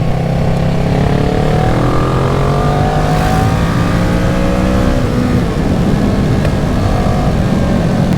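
A 2014 Kawasaki ER-6n motorcycle, restricted for an A2 licence, drones steadily under way for the whole stretch, its engine note rising and falling through the gears over constant loud wind rush.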